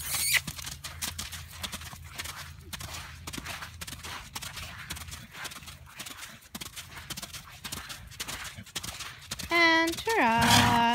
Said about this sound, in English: Athena Canter. Canter